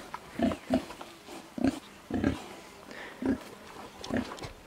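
Pigs grunt in a winter greenhouse they have been turning over: a run of short, repeated snorting grunts in uneven rhythm, fairly close and moderately loud.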